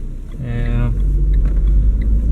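A Renault Sandero Zen 1.6 CVT 2020 engine rumbles low and steady as the car moves off, with someone talking over it briefly near the start.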